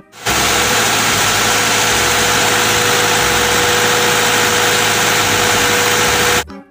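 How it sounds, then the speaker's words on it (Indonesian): A cement mixer truck engine idles with a steady, loud, even rumble and vibration that holds for several seconds before cutting off abruptly, with no voices. "kalau yang ini truk molen."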